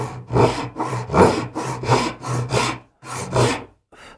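A hand saw cuts through wood in repeated rhythmic back-and-forth strokes, about a dozen rasping pulls with a brief pause near the end, cutting a miter joint for traditional Korean joinery furniture.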